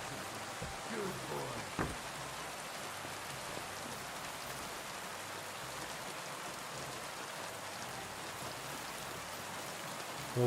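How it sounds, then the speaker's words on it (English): Heavy rain pours steadily in the video game Kingdom Come: Deliverance 2, a dense hiss of drops on surfaces, with a faint voice briefly at the start. "Of course it's pouring down rain."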